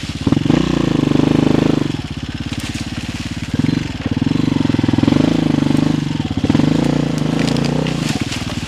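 A dirt motorcycle labours uphill on rough ground, its engine droning loud and close in repeated surges as the throttle opens and eases, with crackling and crunching from the terrain.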